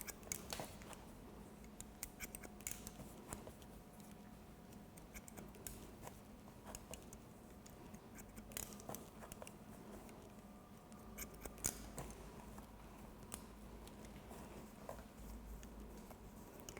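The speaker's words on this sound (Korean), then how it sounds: "앞머리도 한번 기존에 있는 머리 제가 조금 잘라 볼게요." Hairdressing scissors trim the fringe during a two-block and graduation haircut, giving a quiet, steady run of small crisp snips and ticks close to the microphone, with no talking.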